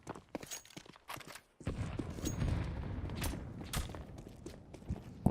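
Rifle and pistol gunfire in a competitive match of a video game, a rapid series of sharp cracks followed by a denser, sustained burst of shots and rumble, fairly faint overall.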